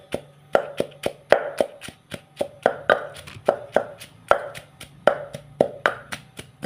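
Grilled chilies and shallots pounded in a mortar, a steady series of sharp, close thuds in a quick regular rhythm with no talking.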